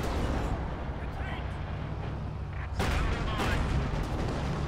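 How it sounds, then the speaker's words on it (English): A bomb grenade bursts in Company of Heroes 2 during a battle, a sudden broadband blast landing midway through and dying into rumbling battle noise, with narration running beneath the din throughout. "throws a bomb grenade and falls back"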